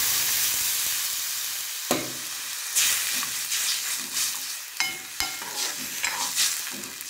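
Water poured into a hot, sizzling pan while cooking a dried shrimp curry gives a loud, steady hiss of steam and sizzle, broken by several sharp clanks and stirring knocks.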